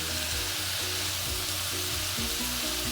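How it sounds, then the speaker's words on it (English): Sliced zucchini stir frying in a hot pan, a steady dense sizzle and crackle with faint stirring, close and continuous with no talk. "now we're just going to let that stir fry for a few minutes"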